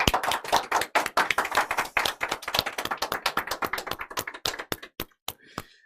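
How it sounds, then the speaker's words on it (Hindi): Students at a railway exam coaching class applaud to welcome a teacher, a dense burst of many hands clapping close by that thins out and ends in a few scattered last claps. "सब बच्चे तालियों की गर्जना के साथ स्वागत करेंगे मेरे भाई"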